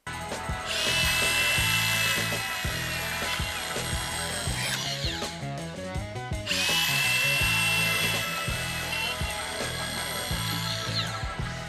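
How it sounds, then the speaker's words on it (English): A power drill whines loudly as it bores into pine wood with a 26 mm bit, pausing briefly in the middle before spinning up again for a second long run. "drilling that pine"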